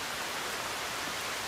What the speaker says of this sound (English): It's raining, and we're all caught out in the rain,